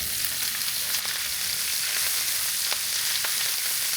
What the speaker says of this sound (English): But we're gonna add the sausage link, let that get brown.